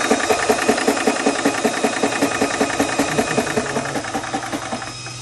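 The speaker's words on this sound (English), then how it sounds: "Go ahead and press the compressor button, turn it off." A Spritech portable PCP air gun compressor runs close by with a rapid, regular piston chug and a rattling mechanical buzz, easing slightly quieter toward the end.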